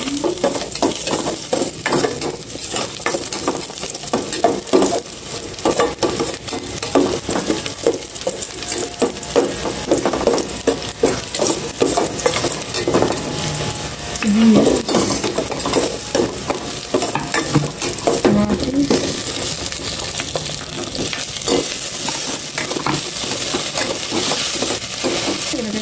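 Garlic stir-fried in a hot pan, a loud, dense and continuous sizzle with steady scraping and stirring from a utensil, close up and unbroken throughout.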